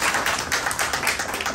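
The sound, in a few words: audience applause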